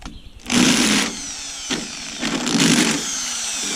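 A power drill with an oversized bit deburring holes in the sheet metal of a school bus body where the back windows were removed, whining loudly in two sustained bursts with a brief dip between them, close by.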